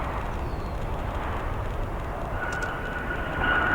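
A United Embraer 175 regional jet arriving at O'Hare airport gives a steady broad engine roar, with a faint thin whine rising near the end.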